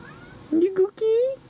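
A pet cat gives two distinct meows close by, a short rising call followed by a longer drawn-out one, heard indoors with no talking.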